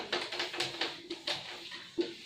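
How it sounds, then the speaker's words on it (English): A duster or eraser rubs and taps against a classroom board during a mathematics lecture, producing a quick series of soft, irregular scrubbing strokes that are fairly faint and close, with no speech. "I'll rub this, I'll erase this from here."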